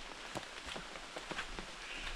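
Light rain patters steadily outdoors, a soft broadband hiss broken by scattered drop taps, quiet and close with no voices.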